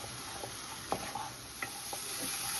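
Spice paste of ground green chilli and tomato being sautéed in a pan, a soft steady sizzle with a few light stirring scrapes and taps, close and quiet, no voices.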